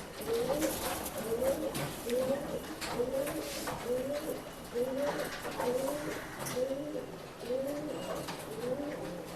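Pigeons cooing at a pet shop in Bangalore, a regular repeating coo close by, about ten calls in a steady rhythm, with faint background noise.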